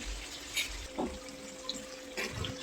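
Water poured into a pot of desi chicken cooking with green chillies, coming in faint short splashes and trickles against quiet kitchen background.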